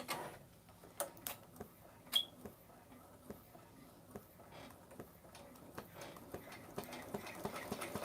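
A home embroidery machine stitching an eye outline on a child's jacket ticks and taps in an uneven rhythm, faint and close, with sharper clicks now and then and no voices.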